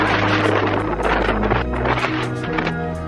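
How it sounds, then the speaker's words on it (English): Strong wind gusts batter the microphone on an exposed mountaintop at a large telescope site in Chile. The heavy, buffeting rumble rises and falls close by, and nobody speaks. "It is really windy up here,"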